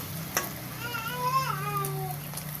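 Paneer fries in a pan with a quiet, steady sizzle. A voice talks briefly over the frying.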